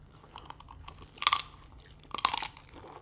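Crunching bites while eating a whole Dungeness crab at a seafood boil, two loud, close crackling bursts of shell separated by quieter chewing.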